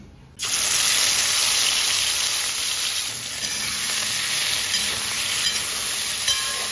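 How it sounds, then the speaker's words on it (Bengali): Chili, ginger, garlic, tomato and onion paste sizzles loudly in hot oil with cumin, a spice base for taro stems, frying steadily and close up from just after the start to the end with no talk. "সেটাকে তেলের মধ্যে জিরে ফোড়ন দিয়ে মশলাটাকে কষিয়ে নিচ্ছি।"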